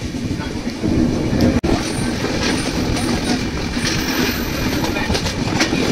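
A Vistadome glass-coach train on the Vizag to Araku Valley line rolls through foggy green hills with a steady loud rumble and rattle of wheels on track, plus one brief sharp dropout partway through.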